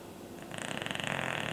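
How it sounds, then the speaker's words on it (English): A dog snores while lying on pillows on a sofa, a close, soft rhythmic rasp that starts after a quiet moment and repeats in quick even pulses. "snoring"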